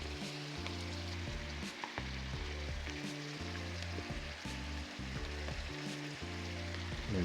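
Tomato paste and sauce sizzle in a pot while being stirred in, a steady moderate frying hiss with faint scraping, under a low rhythmic background hum and with no speech.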